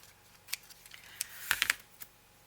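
Scissors snip paper for a journal pocket, a few sharp, quiet cuts close by with short gaps between them and a quick cluster near the middle.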